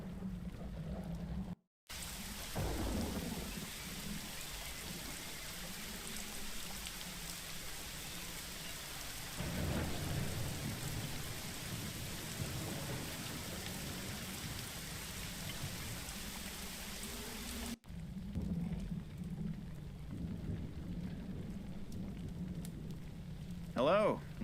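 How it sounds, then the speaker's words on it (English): Heavy rain pours steadily in the adventure game Secret Files Tunguska, with a deep thunder rumble rolling through midway and a brief cut before the downpour resumes, and a short vocal sound near the end. "It's raining cats and dogs."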